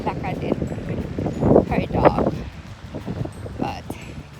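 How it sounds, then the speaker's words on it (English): Wind gusting outdoors on a backyard walk, buffeting the microphone with a rough, fluctuating roar that swells and fades, under a person talking nearby. "it's windy"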